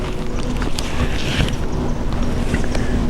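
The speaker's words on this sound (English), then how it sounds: "the wind had just started picking up and getting kind of cool as well" Wind rising outdoors on a cool morning in hunting woods, a steady broadband rush blowing continuously at an even level with no voices.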